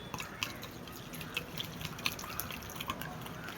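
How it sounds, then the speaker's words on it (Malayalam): Warm milk poured into beaten eggs for a caramel pudding, a faint steady trickle with a few soft drips and splashes near the bowl, no talking. "ഇനി ഇതിലേക്ക് നമ്മൾ മറ്റേ മുട്ടയിലേക്ക് നമ്മൾ ഇളം ചൂടുള്ള പാല് ഒഴിച്ചു കൊടുക്കണം കേട്ടോ."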